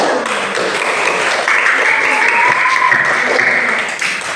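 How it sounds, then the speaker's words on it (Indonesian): Classroom applause from students in an Islamic religious lesson, a loud close burst of clapping with a ringing tone and some chatter or voices mixed in, lasting throughout before easing off at the end. "Tepuk tangan untuk kalian semua"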